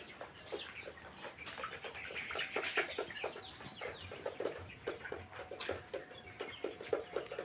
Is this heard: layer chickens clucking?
yes